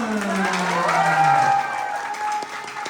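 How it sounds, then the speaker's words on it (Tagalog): Audience applause from a crowd at a seminar talk, a dense, steady patter of many hands clapping for about three seconds, with cheering and voices mixed in and a held tone running through it. "Yung palakpak na ulaming kayo ng pera."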